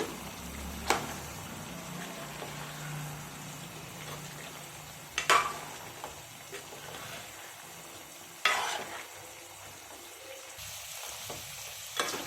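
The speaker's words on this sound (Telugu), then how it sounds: "బాగా కలుపుకోవాలండి కూర" Country chicken curry is stirred in a pan, with a steady low simmer and bubbling throughout, punctuated by a few sharp scrapes and knocks of the spoon against the vessel.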